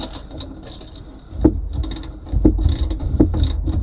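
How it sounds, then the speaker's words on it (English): A 3/4 ratchet tightening bolts on a Fox 2.0 performance shock, giving close metallic clicks and clunks in short, uneven bursts. "that's going to be a 3/4 ratchet and a 3/4 wrench"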